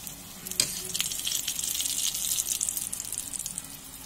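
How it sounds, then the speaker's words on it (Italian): Potato panzerotti stuffed with sliced cheese and mortadella fry in fresh olive oil, giving a close, steady hiss and crackle with occasional sharper pops and clinks. "Vero che fa un botto di fumo perché io comunque le ho volute friggere con l'olio bello di oliva"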